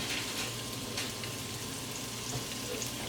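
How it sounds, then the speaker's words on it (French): Chopped onions and chives frying in a pan with a steady, close sizzle that hisses evenly for the whole stretch, with no voices. "je vais aller mettre les oignons et puis notre ciboulette"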